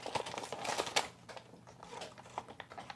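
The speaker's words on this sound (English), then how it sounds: "a little paper bag" A small paper bag is crinkled close up in quick, crisp rustles and crackles, loudest early and then softer, with no talking.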